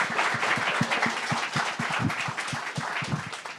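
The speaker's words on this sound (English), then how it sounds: "Let's give Becca a round of applause for that exercise" Audience applause after a storytelling exercise at a Sundance panel, a steady dense patter of many hands clapping close by and filling the whole stretch with no voices on top.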